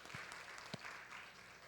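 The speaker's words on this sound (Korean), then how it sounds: "우리 감사로 박수하겠습니다" A church congregation claps in thanks during a Sunday worship service, a soft, steady patter of many hands heard from a distance with a few sharper claps standing out.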